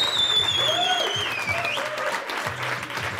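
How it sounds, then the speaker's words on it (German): Studio audience gives a short burst of applause, a dense clatter of clapping that thins out over a few seconds, with some background talk underneath. "Also da einmal einen kleinen Applaus"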